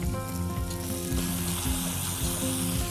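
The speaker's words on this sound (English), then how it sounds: "Just sear the top of that fat." Pork belly sears skin side down in a pan, making a loud, dense, continuous sizzle close up, with light clattering from the pan and no talking.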